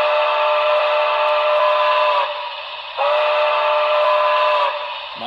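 A loud, sustained model train steam whistle blows twice close by, each long blast steady and shrill, with a short pause between them.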